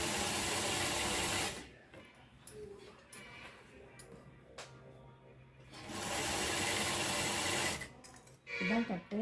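A sewing machine stitches churidar lining and outer fabric together in two close bursts of rapid mechanical whirring, separated by a quieter pause with handling of the cloth, a voice speaking briefly in between.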